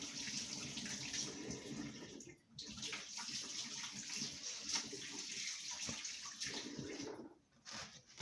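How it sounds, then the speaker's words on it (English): Water from a kitchen tap runs steadily as hands are washed, with a soft, even splashing that briefly drops away twice. "I'm just gonna wash my hands"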